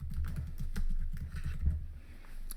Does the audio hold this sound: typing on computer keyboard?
yes